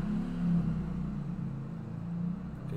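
A motorcycle passes by outside, heard as a steady, low engine rumble that swells slightly and then holds, fairly loud, with no talk over it.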